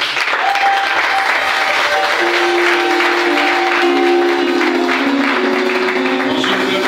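A church congregation applauds continuously for several seconds in a worship service, dense steady clapping filling the room with a few sustained tones underneath.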